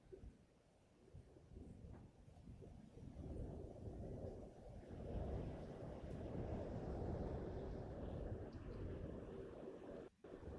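Strong wind buffets the microphone outdoors on safari, a steady roaring rumble that swells and stays loud throughout, with no voices.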